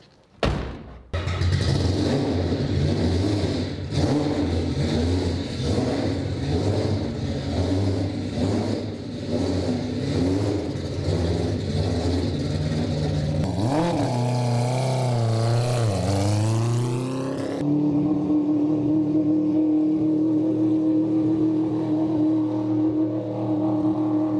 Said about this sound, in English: let's take it out on the road real quick